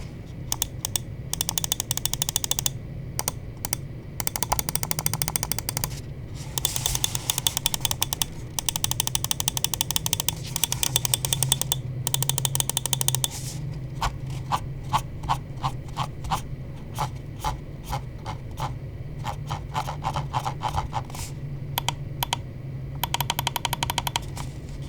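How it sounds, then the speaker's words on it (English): A 49-gram Teevolution Terra computer mouse clicks in rapid, crisp bursts close to the mic, with short pauses between runs of clicking and no voices. "we will drop a click quality sound test"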